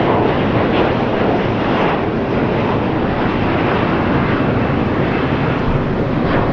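Jet aircraft at Los Angeles International Airport, with Boeing 777s present, a loud sustained broadband engine roar with wind buffeting that holds steady throughout and has no voices.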